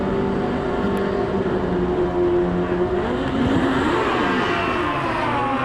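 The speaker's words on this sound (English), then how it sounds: "Jones on that beautiful yellow and black motorcycle in the right lane, 2007 Suzuki." A 2007 Suzuki motorcycle racing at the Mancup World Finals, engines droning steadily with rising and falling pitch as bikes pass, loud and continuous throughout.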